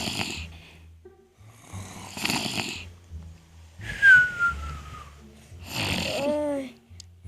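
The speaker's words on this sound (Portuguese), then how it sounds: "você ronca muito. Para de roncar um bocado." A character snoring loudly in a Minecraft PE machinima, four rhythmic rasping snores each trailing into a whistling exhale, close and prominent with quiet gaps between.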